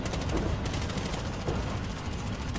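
Gunfire in the video game Battlefield Hardline, a loud, dense burst of rapid automatic shots rattling continuously with no talk.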